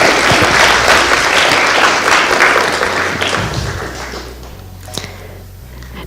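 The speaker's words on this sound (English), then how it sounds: "So give a huge round of applause to our organizers." A hackathon opening-ceremony crowd gives loud, dense applause that gradually thins and fades out over several seconds, leaving a few scattered claps and a near-silent room.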